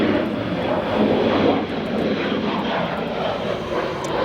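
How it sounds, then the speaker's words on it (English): Airbus A319 jet airliner arriving at O'Hare Airport, a loud continuous broadband engine roar with steady rumble, heard alone and fairly near throughout. "our next two arrivals, United Airlines Airbus A319 and Lufthansa Airbus A350 behind"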